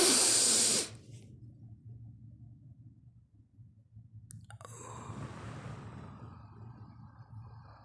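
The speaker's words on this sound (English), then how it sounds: "Second, deep breathe for relaxation." One slow, deep breath for relaxation: a long airy exhale, a quiet pause, then a softer drawn inhale with light rustling, heard close up in a calm, quiet room.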